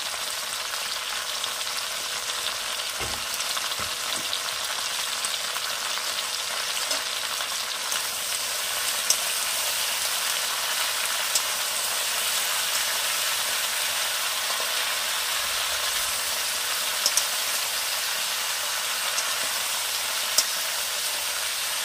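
Jujube pickle frying in a pan with salt and turmeric while being stirred, heard as a steady, even sizzling hiss that runs throughout with only faint occasional scrapes and no talking.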